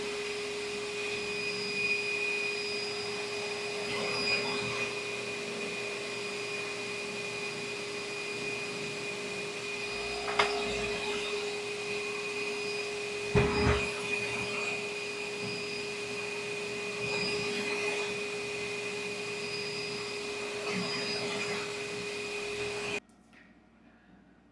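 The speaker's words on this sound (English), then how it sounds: "let this finish drying, and then we'll put it on the buffer" A buffing wheel polishes a tobacco pipe, holding a steady whirring motor tone with a constant pitch throughout. Faint knocks and brief contact scrapes come through here and there, and the whir cuts off abruptly near the end.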